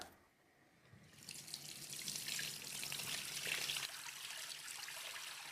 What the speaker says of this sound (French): je le mélange bien à l'eau avant pour qu'il soit bien dissous